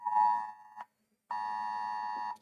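Phone emergency alert test tone from a military test, loud steady electronic beeping in two long bursts separated by a short pause, with no voices.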